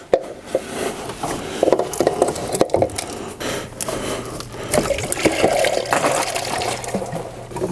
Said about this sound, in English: try to work this hose off and get hopefully the antifreeze in this cup here